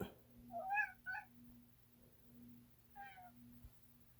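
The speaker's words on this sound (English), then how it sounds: "or he's gonna meow and meow" A cat in a craft room gives a few short, quiet meows, two close together and then another after a pause, over a low steady hum.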